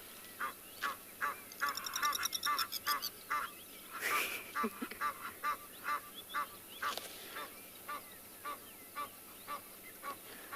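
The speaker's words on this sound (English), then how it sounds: "And some very, very noisy Egyptian geese." Repeated loud honking calls from Egyptian geese, steady and rhythmic, with birdsong and chirps in the background outdoors.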